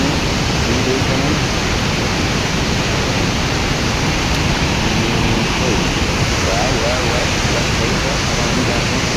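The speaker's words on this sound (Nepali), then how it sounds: "पानी नै पानी, जताबाट पनि पानी नै झर्दैछ।" Heavy water pouring down stone steps at a waterfall in Nepal, a loud, steady, broadband roar that holds unbroken throughout with no pauses.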